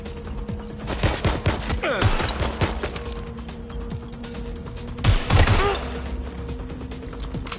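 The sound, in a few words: gunfire in a video game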